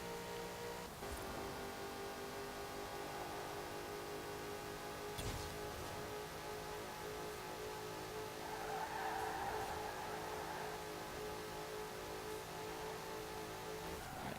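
A 2010 Saleen S5S Raptor in Forza Horizon 4 holds flat out at top speed, its engine droning loud and steady with a layered tonal whine and a brief rush of wind or tyre noise midway, no voices.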